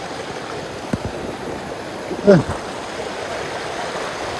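A mountain river rushes steadily where hikers cross it on the Permadi Guci trail up Mount Slamet, a constant close wash of water with a brief voice calling out partway through.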